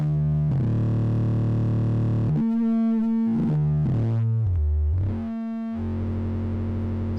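A Feedback Modules LP FET synth filter driven into distortion produces loud, buzzy sustained tones that shift pitch in steps, with gritty harmonic overtones and brief gaps between notes, no talking.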